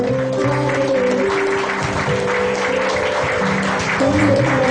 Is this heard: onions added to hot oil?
no